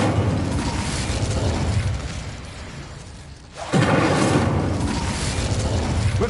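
The Incendio fire spell in Hogwarts Legacy, cast twice as loud, roaring bursts of flame with a brief quieter lull between them.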